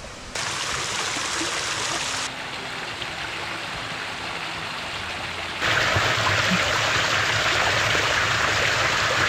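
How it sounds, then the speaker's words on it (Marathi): A stream rushes loudly along a jungle trek in the Adrai forest of Maharashtra, a steady broadband roar of flowing water that swells louder partway through, with no talk. "इथं बहुत जोरात पाणी वाहण्याचा आवाज येऊन राहिला आहे."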